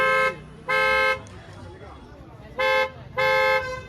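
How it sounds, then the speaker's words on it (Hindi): Creta-style dual-tone horn fitted to a Tata Punch blares in four loud, bright honks, two short then a pause and two more, close by with faint background noise between. "डुअल टोन हॉर्न जो है वो भी लगाया गया है।"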